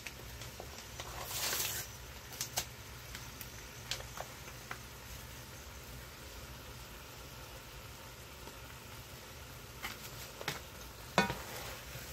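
Brown gravy mix is stirred into beef stew in a pot, with soft scraping and a few sharper clinks of the spoon over a quiet low hum.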